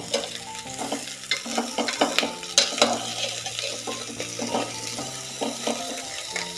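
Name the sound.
ridge gourd stirred and frying in oil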